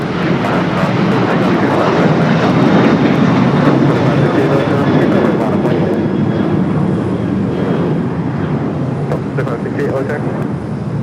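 Airliner at Los Angeles International taking off on runway 25 right, its engine roar loud and steady throughout, broad and rumbling, easing slightly toward the end.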